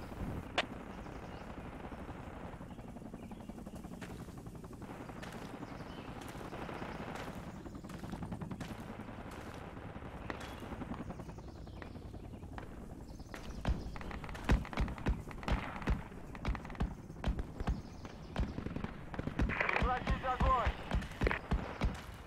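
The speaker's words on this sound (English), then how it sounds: "Sounds like we got an APC at a abandoned house or something." Armored personnel carrier firing in the military shooter Project Reality, a faint distant stream of gunfire that grows into louder repeated shots and bursts later on, heard alongside footsteps and someone talking.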